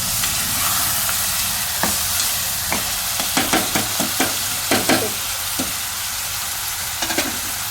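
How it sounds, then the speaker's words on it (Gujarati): Fenugreek leaves and potato pieces frying in oil while being stirred, a loud continuous sizzle punctuated by a rhythmic run of spatula scrapes against the pan. "એટલે તેલમાં શાકભાજી શેકીએ ને એટલે લીલો કલર થઈ જાય."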